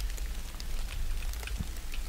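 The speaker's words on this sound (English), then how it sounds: "Oh, it's raining." Steady rainfall in the Stardew Valley video game, a soft continuous patter with faint scattered droplet ticks, heard alone at low volume.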